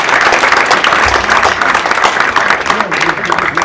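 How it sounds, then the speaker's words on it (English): A panel-discussion audience at a community event breaks into a round of applause, a dense, steady wash of clapping that fills the whole moment with no break. "A round of applause for us."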